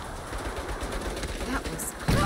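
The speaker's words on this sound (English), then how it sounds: "Turrets! Take cover!" Turret gunfire rattles in the video game Saints Row, a dense stream of rapid shots under game noise, with a sharper burst near the end.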